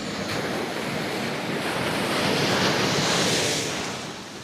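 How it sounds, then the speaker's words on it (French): Ocean waves surge and wash around a small fishing boat off Florida, a dense roar of surf mixed with buffeting wind on the microphone that swells and then eases, with no one speaking. "Regarde les vagues."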